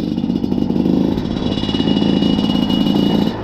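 A Yamaha WR 250 dirt bike engine runs close by, with a steady, fast-pulsing buzz and a rattly mechanical clatter that holds at a constant pace throughout, with no speech over it.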